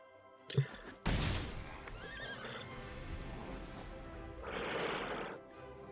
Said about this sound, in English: Your horse is a little mad, man.